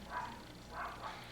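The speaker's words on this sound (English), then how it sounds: "Now my dog's barking." A dog gives two or three short, muffled barks from another room, faint and slightly distant, with no talking over them.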